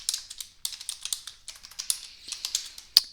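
Close, quick typing on a computer keyboard in irregular bursts of light clicks, ending with one sharper key strike. No voices.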